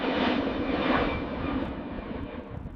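Airliner engines roaring loud and steady at full power as the plane climbs away just after liftoff, a broad continuous rumble with no voices.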